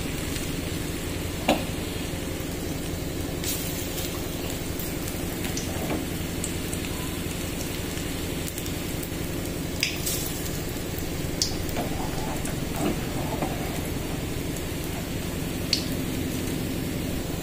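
Onion and coriander pakoras fry in hot oil with a steady, dense sizzle throughout, occasionally punctuated by faint pops and light clinks.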